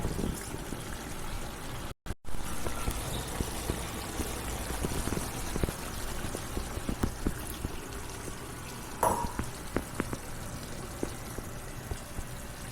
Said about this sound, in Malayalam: കുറച്ചും കൂടി വെള്ളം ഒഴിക്കട്ടെ